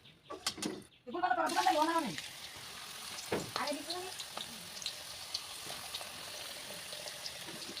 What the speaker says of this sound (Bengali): এখন বাকিগুলি ভাজবো।